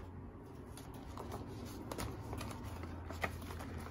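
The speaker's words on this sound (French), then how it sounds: "donc on va le remettre dans son plastique tout doucement" A plastic sleeve rustles and crinkles softly as The Last of Us Part II game case is slid back into it, quiet close-up crackling and light taps with a low hum underneath.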